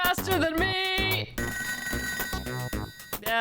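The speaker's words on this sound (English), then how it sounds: "That's the phone. Give me the phone." A cartoonish telephone ring from the ToeJam & Earl video game trills in quick repeated electronic bursts, mixed with bright synthesized game tones and bleeps, loud and close.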